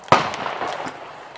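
A semi-automatic gun firing from an open bolt lets off a single sharp, loud report close by, and it rings out and decays over about a second.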